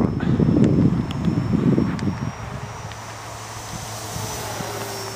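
A ParkZone Corsair radio-controlled model airplane's propeller engine drones at a distance, with a faint high whine and wind rumble that fades as the plane flies away in calm air.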